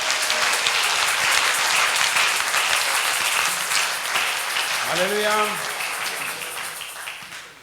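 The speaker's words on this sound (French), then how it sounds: "Applaudissez le Seigneur." Congregation applauding during a Sunday church service: sustained dense clapping throughout, slowly fading toward the end, with a voice calling out briefly over it midway.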